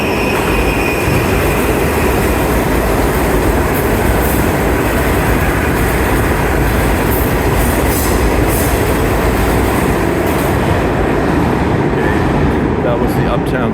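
A New York City subway train roars loudly and continuously through the 33rd Street IRT station, with steady rumbling wheels and rail noise filling the whole span, faint wheel squeal near the end.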